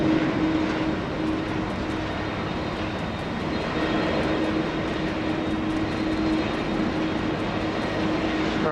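Airplane landing on runway 16 right at Sydney Airport, a steady loud roar of engines with a faint tonal whine, continuous and fairly near throughout.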